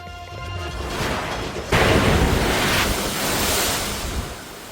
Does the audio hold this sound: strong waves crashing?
yes